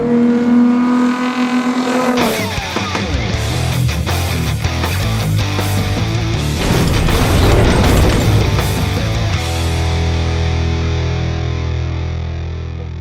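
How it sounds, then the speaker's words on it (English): A Nissan Spec Z project race car at NCM Motorsports Park in Bowling Green, Kentucky, its engine revving hard and shifting through gears in a loud, continuous run around the track, close and strained. "We've made it back to the track with our Spec Z Project race car to see just how good this thing really is."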